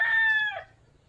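A native rooster on a rural provincial farm gives one short, clear crow that fades out quickly over quiet background.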